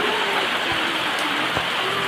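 Heavy rain pours down in a dense, steady roar close by, with a couple of faint knocks underneath and no talking.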